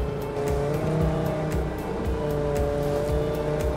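Telescopic forklift driving unloaded with its fork heels low, a close steady diesel engine drone with pulsing undertone and faint rattles, rolling through a turn.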